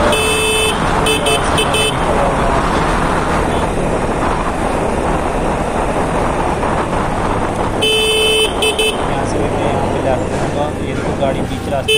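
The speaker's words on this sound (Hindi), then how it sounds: "पीछे बाइक गाड़ी वाला कोई हॉर्न बजा रहा है" Vehicle horns honking amid busy road traffic, with a steady loud engine and wind rumble, short beeping horn bursts at the start and again around eight seconds, mixed with nearby talk.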